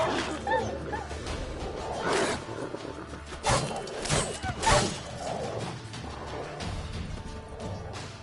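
Dogs bark in The Witcher 3 amid game noise, several sharp barks rising over a busy mix of background sound and voices.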